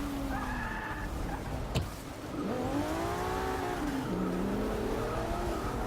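Race cars in Forza Motorsport 6 roar around the Sebring circuit, engines whining and shifting pitch as they accelerate and brake, with a sharp tire squeal or impact near two seconds, loud and continuous throughout.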